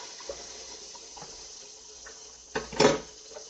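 Water from a tap splashes into a pot in a home kitchen while shrimp are being cooked: quiet background at first, then a short loud rush of running water near the end.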